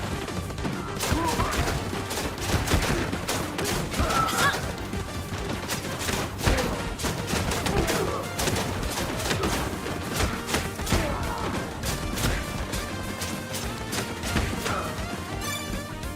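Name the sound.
Gatling cannon firing in video game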